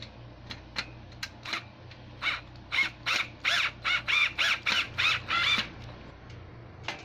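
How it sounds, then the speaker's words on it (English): A supplied wrench tightening bolts on a multi-purpose workbench during assembly, giving a run of about a dozen sharp, rhythmic ratcheting clicks that speed up and grow louder toward the middle, close by, with no speech. "It's a wrench, and then you're just going to tighten it"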